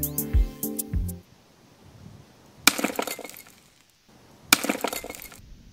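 A glass jar shatters as molten aluminum is poured into it, with two loud, sharp bursts of cracking and breaking glass after an opening clank of metal. No talk is heard.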